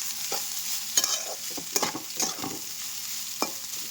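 Okra stir-fried with crushed garlic in a pan makes a soft steady sizzle with a few sharp scraping and stirring clatters near by, with no talking.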